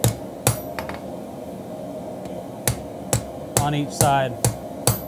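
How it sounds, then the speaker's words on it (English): A knife's integral bolster is hammered on the side of an anvil during hand forging, giving sharp, ringing metallic strikes at irregular intervals, some in quick pairs, with someone talking between and over the blows. "hold this on the side of your anvil where you want it, and you just have to start working that bolster down"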